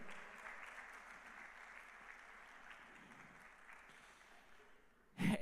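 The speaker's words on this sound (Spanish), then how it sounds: "Bríndale un fuerte aplauso al Rey de Reyes." A church congregation claps in sustained, moderately distant applause that continues steadily for several seconds and then fades out, followed by a brief sharp bump.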